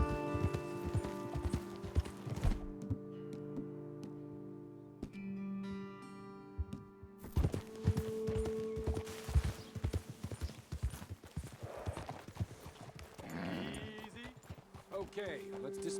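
Horses' hooves clip-clop in a steady walking rhythm in the video game Red Dead Redemption 2, close and clear, with someone talking over the hoofbeats and a low musical drone underneath.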